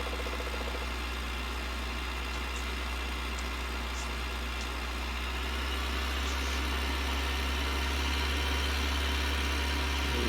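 A brand-new tractor engine runs steadily while hitched to a muck spreader, a deep constant drone with a low rumbling hum that swells slightly toward the end, nearby and unbroken.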